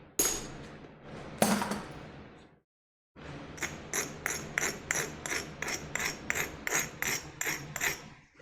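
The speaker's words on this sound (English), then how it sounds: "What this does is just an abrasive, and I'm using it to like get all the sharp edges off" An abrasive scrapes fiber optic glass to dull its sharp edges, producing a rhythmic series of gritty rasping strokes after a brief pause, close and fairly loud with no speech.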